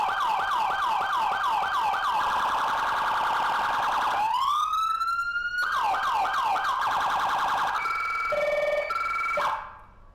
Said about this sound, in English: But once you come out of park, if you go into any siren, it will go off.